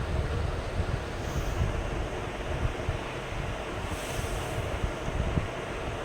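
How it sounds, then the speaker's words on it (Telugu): Chopped jackfruit seeds and brinjal fry in a kadai, a steady, close, broadband sizzle with a low rumble that holds evenly throughout, with no one speaking. "తరిగి పెట్టుకున్న పనస గింజలు ఇలా వేసి కడాయిలో ఫ్రై చేసుకుందాం."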